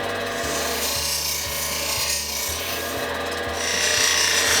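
Steady rasping and grinding as saw marks are taken off a cut Petoskey stone on a machine with a constant low hum, continuous and close.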